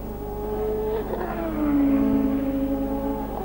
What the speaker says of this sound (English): And into the pits again comes Alboreto.